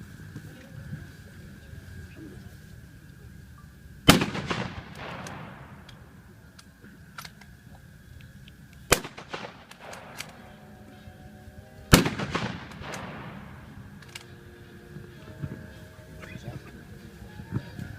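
A German World War II firearm fires three separate single shots at a historic-site weapons demonstration, each loud, sharp crack spaced seconds apart and followed by a ringing, echoing decay over a quiet outdoor background.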